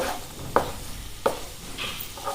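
Mint potato rice being stirred in a pan, with two distinct scraping strokes of a spoon against the pan and a faint sizzle underneath, close and fairly quiet.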